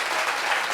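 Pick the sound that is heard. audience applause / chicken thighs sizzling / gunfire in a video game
audience applause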